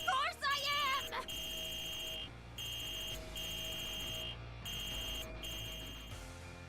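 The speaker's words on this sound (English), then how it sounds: "I thought a fire alarm was blaring." A fire-alarm-like sound effect from the Trails Beyond the Horizon video game blares as a steady, loud electronic tone in repeated pulses with brief gaps, under a layer of background game audio.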